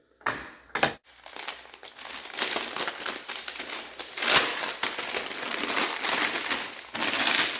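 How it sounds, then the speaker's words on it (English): A plastic bag crinkles and rustles loudly close by while a Toro commercial walk-behind lawn mower is unpacked, with sharp crackling bursts that continue in an irregular stream. "that's going to be the loudest plastic bag I've heard in a long time."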